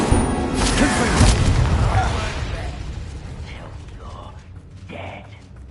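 Confringo fire spell cast in Hogwarts Legacy, a loud burst with rumbling, creaking game sound effects that fade out over several seconds, with speech partly over it.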